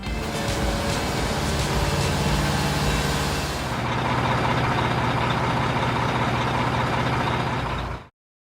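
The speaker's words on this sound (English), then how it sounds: "Mixer truck." A concrete mixer truck engine rumbles continuously and loudly, with a shift in its droning tone partway through, then cuts off abruptly.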